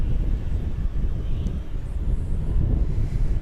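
An American Airlines Boeing 737-800 jet at DFW Airport at night, preparing for takeoff, makes a steady low rumble from a distance with wind noise over the microphone.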